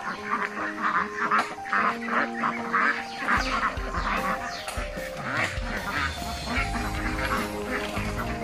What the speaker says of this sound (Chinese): 好像有十多只公鸭呀